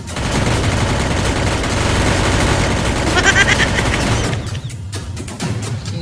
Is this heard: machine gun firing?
yes